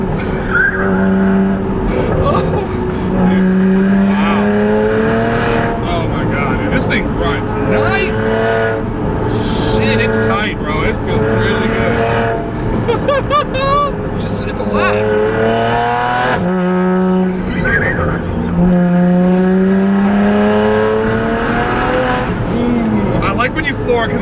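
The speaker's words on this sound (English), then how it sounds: "and then this turbo spools, spools and out." A 600 HP BMW N54-powered DTM Z4 on R888 tires accelerates hard. The loud engine note rises and falls through repeated pulls with turbo whoosh, heard from inside the car under constant excited talk.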